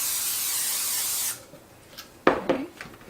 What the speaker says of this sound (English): I gotta spray the pan.